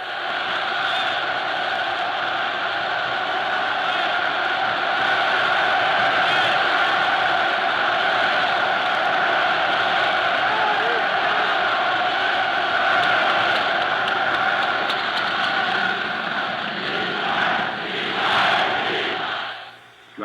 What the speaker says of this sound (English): You are hearing the crowd shouting Sieg Heil, meaning Hail Victory.